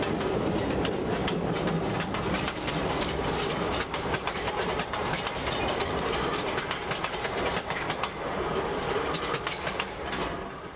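Train TU2098 hauling newer PV51 coaches rolls through long grass into Chemnik, a steady broad rumble with faint wheel clatter and rail noise throughout, at moderate distance and without voices.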